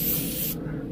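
An airbrush sprays paint onto a Minion figure with a steady, close, loud hiss that cuts off abruptly about halfway through, leaving only low room noise.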